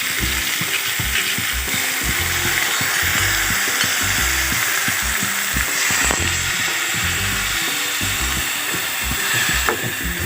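Drumstick curry with mustard and sour mango is stirred in a pan, giving a continuous loud sizzle with rhythmic scraping pulses throughout.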